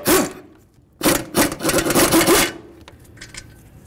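A ratchet or wrench works loose the brake caliper mounting bolts on a Mazda: rapid rasping, clicking bursts in several quick strokes, close and fairly loud with no talking.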